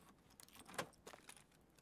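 A ring of keys jangles in Escape from Tarkov, a soft metallic rattle with a brighter clink near the middle, heard alone and fairly quiet against faint room tone.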